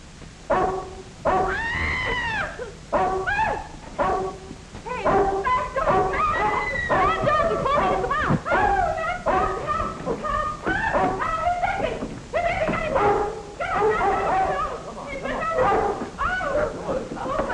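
A dog yips, barks and whimpers excitedly in rapid bursts for a sustained stretch, loud and close, in an old 1930s film scene.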